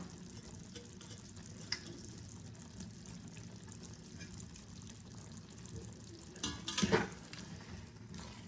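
Coriander, kasuri methi and spinach for palong saag being stirred in a pan: a soft background sizzle with light scraping, and a louder clatter of the spoon against the pan near the end.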